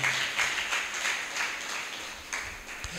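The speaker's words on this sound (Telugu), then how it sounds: "చప్పట్లు కొట్టి దేవుని నామాన్ని కనపరుద్దాం" A church congregation at a Sunday morning service claps in praise, a faint, even patter of many hands keeping a steady rhythm from a distance.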